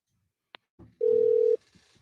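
A telephone line tone sounds while a guest is being called into a live show, a steady electronic beep lasting about half a second after a click and a short burst of noise, followed by faint line crackle.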